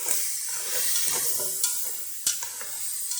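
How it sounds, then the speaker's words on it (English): Onions and vegetables for an Asian curry sauté in a hot pan, a steady close sizzle and hiss broken by a couple of sharp scrapes and clinks as the pan is stirred, with no talking. "to caramelize the onions and bring some color to the vegetables"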